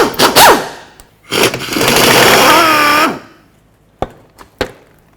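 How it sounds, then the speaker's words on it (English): Work beneath a Ford Fusion to free skid shield mounting bolts, with a loud power tool whirring in a sustained burst after a shorter rattling run, then two sharp metallic clicks as bolts come loose, close by. "To remove the shield, we need to remove all of the mounting bolts."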